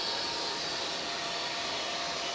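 A hairdryer blows with a constant, airy whoosh, held steady and fairly close throughout, with no voices.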